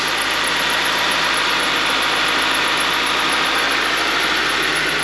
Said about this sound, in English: A little bit of a belt squeak, but otherwise unremarkable.